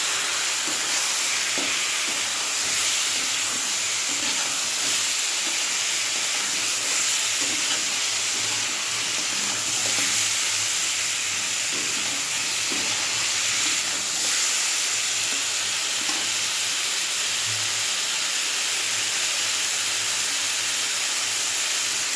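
Fish frying in an oiled pan gives a steady, dense sizzle and hiss that runs unbroken from start to finish, close and fairly loud, with faint clinks beneath and no talking.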